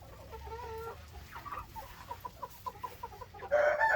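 Chickens clucking in a coop shared with turkeys, a steady run of close, rhythmic clucks over a low background hum, ending in a louder squawk.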